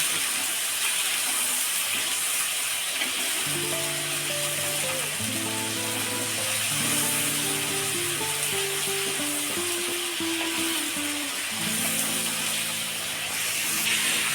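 Onions fry in a pan while cooking chole bhature, a constant broad sizzling hiss that carries through the whole stretch beneath a melodic music track.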